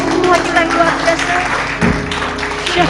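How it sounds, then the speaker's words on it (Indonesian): A church congregation at a GBI worship service in Batam bursts into applause, with dense, steady clapping and cheering mixed with voices and music underneath. "Berikan tepuk tangan terbaik untuk Tuhan kita yang luar biasa"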